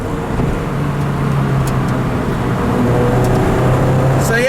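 A Lotus Elise Club Racer heard from inside while driving, a steady loud road and engine drone with tire rumble throughout.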